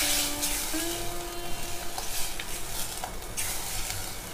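Rajma masala and coriander-cumin powder frying in oil in a pan for a rajma curry, stirred through. A continuous close sizzle carries soft scraping strokes, and no one speaks.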